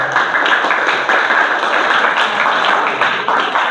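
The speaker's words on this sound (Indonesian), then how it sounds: "Beri tepuk tangan buat guru-guru kita semua." An audience at SMP ITA Salam claps for its teachers, a steady, loud, unbroken wash of applause from many hands that fills the room with no talk over it.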